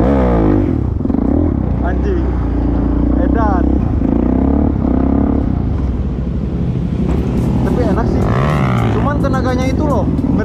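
A Suzuki DRZ 400SM supermoto rumbles loudly and continuously during a test ride, its engine note rising and falling as it revs, while a rider talks over it throughout.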